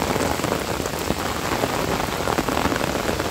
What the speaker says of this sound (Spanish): si sigue lloviendo, así como aquí en Navarra, está lloviendo